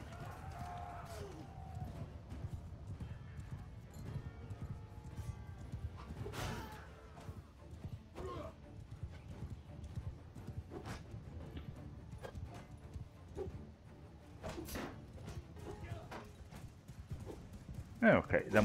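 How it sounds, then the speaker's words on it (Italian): Horse hooves gallop in a steady rhythmic clatter in Mount & Blade 2 Bannerlord during a battle, with occasional whinnies and distant battle noise, while someone talks over it. "Perfetto, abbiamo un cavallo."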